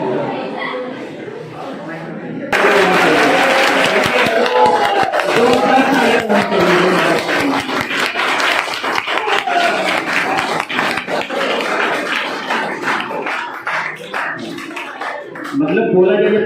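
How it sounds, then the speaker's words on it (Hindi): A packed hall of school students at a motivational seminar at an inter college bursts into loud, sustained clapping after a quiet lead-in, the dense applause continuing for many seconds with crowd noise mixed in. "जब ताली बजाने के लिए इतना जम के बजाना कि हाथ हाथ लाल हो गए"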